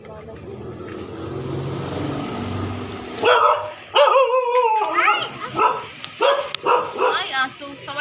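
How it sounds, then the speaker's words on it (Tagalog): A dog barks repeatedly at close range in sharp, uneven bursts after a stretch of steady background rumble, and voices are heard around it. "Ay, aso."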